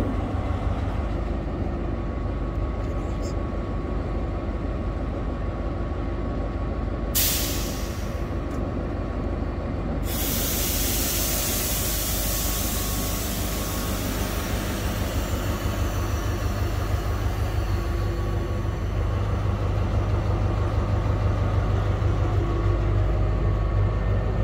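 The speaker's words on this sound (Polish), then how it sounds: "żeby Wam zademonstrować, jak to się łączy, podjedziemy lokomotywą z powrotem" A shunting locomotive slowly backs up along the track for a coupling demonstration, giving a steady, close, continuous engine rumble and rolling noise throughout, with no talk.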